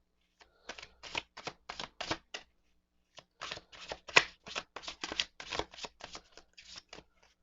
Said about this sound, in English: So let's get to shuffling so we can see what this week has in store for us all.